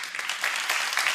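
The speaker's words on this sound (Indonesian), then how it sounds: "Boleh tepuk tangan untuk Hilman." Audience applause at an Islamic religious talk, a thick continuous rattle of many clapping hands, close and sustained without a break.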